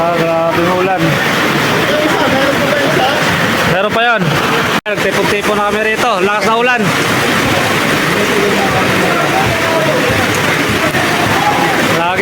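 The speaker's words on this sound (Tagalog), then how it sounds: "Tignan mo naman yung ulan, oh. Grabe yung lakas, oh." Heavy, steady rain hisses loudly throughout, with voices talking over the downpour.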